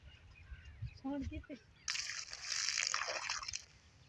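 Water poured from an empty plastic bottle onto a potted plant splashes and sloshes steadily for about two seconds, following a brief stretch of talk.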